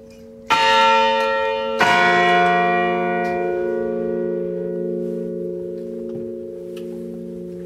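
A church bell in a campanile is struck twice, the strikes about a second apart, and the loud metallic tone then hums on and fades slowly over several seconds, ringing alone.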